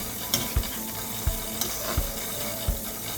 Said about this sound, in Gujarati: પછી હલાવી નાખવાનું અને થોડી વાર ચડવા દેવાનું.